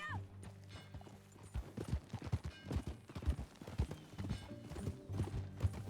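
Horse hooves clop in an uneven, steady rhythm at a moderate distance in Red Dead Redemption 2, with a quiet background murmur and occasional soft tones.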